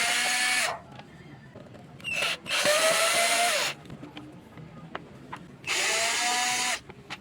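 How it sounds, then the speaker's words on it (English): Power tool backing out the air cleaner box cover screws on a Suzuki Burgman Street EX scooter, giving four loud, close whirring bursts of about a second each, separated by quiet handling clicks. "I started removing the fourth screw first, and then to the next one until all the 4 screws are removed."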